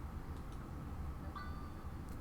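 A brief electronic ding rings out with a clear tonal chime partway through, faint and close, followed by a soft fading tail over a low steady background hum.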